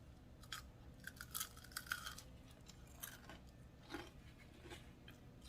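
Quiet crisp crunching from chewing crunchy fried sweet potato, a series of irregular bites and crackles close to the mic, with no talking.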